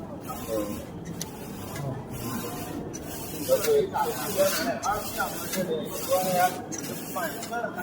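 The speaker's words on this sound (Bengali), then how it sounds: "এটা হচ্ছে প্রিন্টিং মেশিন।" A printing machine runs with a continuous hissing, rushing mechanical noise and rhythmic pulses, close and steady, with people talking over it.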